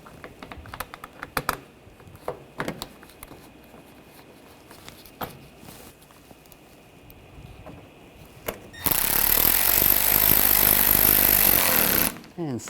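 Screws being driven into front bumper cover panels on a 2013-2022 Buick Encore 1.4L, with scattered clicks and taps leading into a loud, continuous power-driver whir lasting several seconds before it cuts off.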